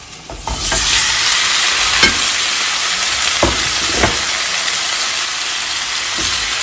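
Cooked potatoes frying in oil in a pan, a steady broadband sizzle that starts abruptly and holds loud and close, with a few sharp pops and utensil knocks scattered throughout.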